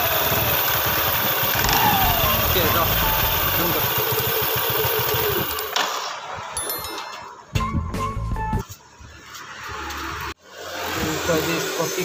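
A Yamaha Fascino scooter engine starts up after a drive belt change and runs with a steady mid-pitched idle, close by, with brief speech over it and a few clicks and cuts near the end.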